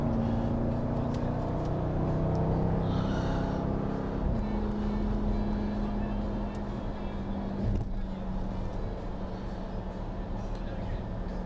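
A 2018 Dodge Durango SRT three-row SUV drives along with a steady engine and road rumble heard from inside the cabin. Someone talks over the constant drone.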